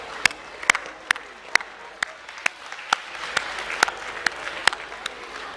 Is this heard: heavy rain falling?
no